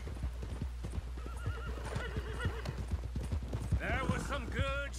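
Horse hooves clopping along a road in Red Dead Redemption 2, rhythmic and fairly close, with a whinny and snorts rising near the end and voices talking over parts of it.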